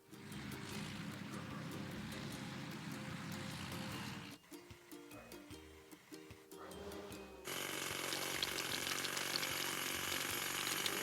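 Toy excavator's hydraulic hammer breaking rocks, a harsh continuous buzzing rattle that cuts out into scattered clicks and clunks before returning louder and steady, with no voices.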